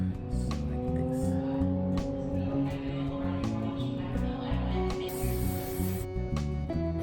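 Spraying down a frontal wig on a cap while making a wig, a hiss heard under steady background music with some rubbing and handling noise.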